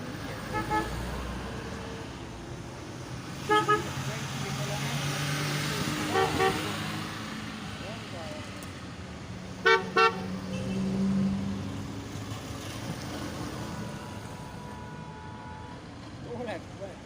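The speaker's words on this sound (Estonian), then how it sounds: "Annavad signaale." Car horns toot in short paired blasts at a vintage vehicle parade, a few separate honks spread over steady traffic and crowd murmur with people chatting nearby.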